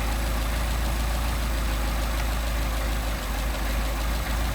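A Mercedes 190SL engine with Solex carburetors idles steadily and evenly, a constant close-up mechanical drone with no talk over it.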